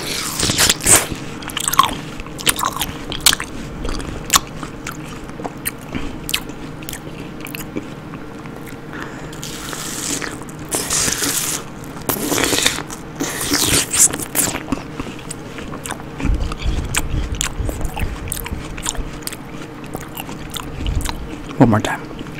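Wet, juicy bites and crunchy chewing of watermelon repeated over about twenty seconds, close to the microphone, with some quiet sounds between bites.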